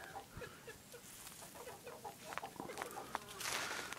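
Hens cluck in a chicken pen on a cold winter day, with several short, close clucks and rustles scattered over a quiet background.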